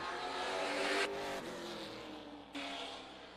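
A race car on a qualifying run at Madera Speedway roars past steadily and loudly, its engine note shifting in pitch as it accelerates down the straightaway, with no talking over it.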